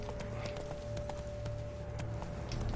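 Hoofbeats of Geralt's horse Roach galloping in The Witcher 3, a quick, even clip-clop rhythm heard up close alongside a low ambient rumble, with no voices.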